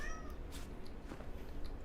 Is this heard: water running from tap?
no